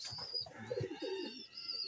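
Pigeons at a loft cooing softly in a close, quiet setting, with low throaty coos over faint high-pitched background tones.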